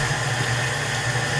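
A stand mixer fitted with a paddle churns cheesecake batter, giving a steady motor hum with a rhythmic low whirring throughout the brief stretch, close up and without talking.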